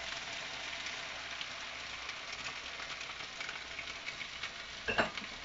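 Chicken and vegetable noodles with egg yolk being stirred in a hot pan, a steady soft sizzle with faint scraping and a brief clatter near the end.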